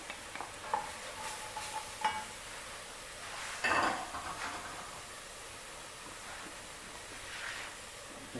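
Beef is stirred back into a hot pan of browned onions and mushrooms, giving a soft steady sizzle with scraping spoon strokes and one louder clatter midway, with no voices.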